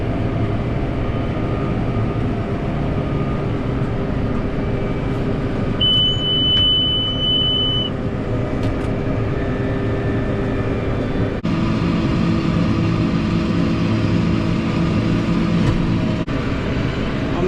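A tractor pulls a baler through a field of grass hay, a steady loud engine drone with running machinery filling the whole stretch, a few brief clicks and a short whine over it, no talk.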